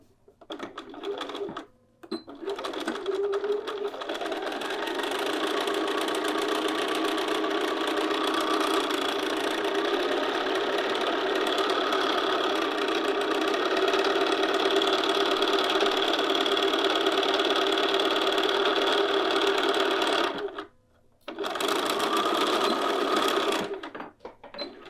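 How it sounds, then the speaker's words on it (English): A sewing machine stitches along a bodice seam line at regular stitch length, a steady close mechanical whirr running for about eighteen seconds, with brief stops near the start and near the end. "we're going to sew along the seam line using our regular stitch length"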